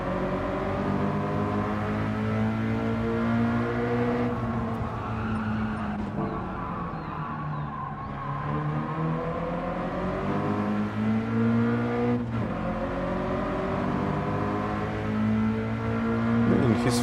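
Race cars in Gran Turismo 7 driving on track, a steady engine drone whose pitch dips under braking and rises again on acceleration, continuous and fairly close.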